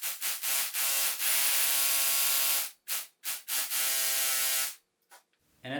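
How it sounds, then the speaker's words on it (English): A power drill whines in repeated bursts while drilling holes to install a tube bender in a garage, a couple of short pulses followed by two long sustained runs, close and loud, with no talking. "so now we're just gonna drill the rest of them"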